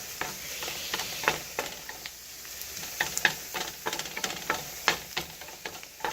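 Mushrooms and onions fry in a pan for a barbecue mushroom burger, a close crackling sizzle with irregular spatters and stirring clicks, and no voices.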